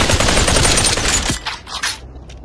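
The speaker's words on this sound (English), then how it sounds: "I'm getting shot from behind" Dense, rapid gunfire from the VR battle royale game Population: One strikes the player, a loud burst of overlapping shots that cuts off abruptly about halfway through, followed by a few fainter scattered hits.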